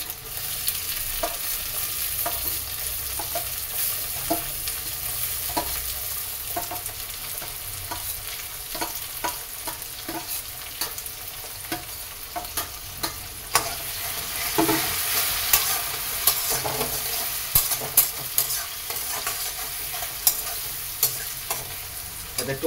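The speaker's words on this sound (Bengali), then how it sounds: "তো আমার টমেটো আর লঙ্কাও ভাজা হয়ে গেছে" Ripe and green chillies frying with tomato in a pan, a constant close sizzle broken by repeated sharp scrapes and taps of a stirring spoon, no voices.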